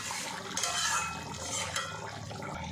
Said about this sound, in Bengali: নিয়ে আমি 1 মিনিটের মতো এটা ফুটিয়ে নেব।